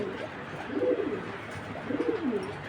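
A Belgian pigeon coos nearby, two soft, throaty rolling calls about a second apart against a quiet background.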